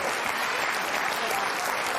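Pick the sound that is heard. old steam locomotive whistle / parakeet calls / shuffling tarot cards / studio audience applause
studio audience applause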